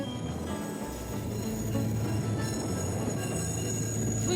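Tren a las Nubes, the cloud train, rolls through the high Andes plateau with a steady rumbling clatter of wheels on track and a thin squeal of metal, continuous and fairly close, with no talking.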